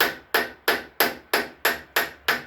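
A ball peen hammer taps a seal into place on a 2008 Pontiac G6 3.5, eight crisp metallic strikes at a steady, even rhythm, each ringing briefly, close and loud with no talking.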